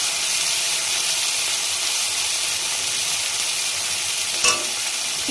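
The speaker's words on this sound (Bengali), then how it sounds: "মশলাটা আমার কষে নিচ্ছি ভালো করে" Spice masala with salt and turmeric frying in a pan while being stirred, a loud continuous sizzle and hiss with a brief scraping knock near the end, no talking.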